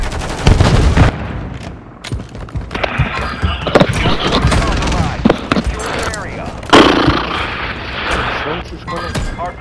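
Loud, dense bursts of gunfire and explosions from the video game Modern Warfare 3 fill the scene, layered with clipped voice callouts from the game over the shooting.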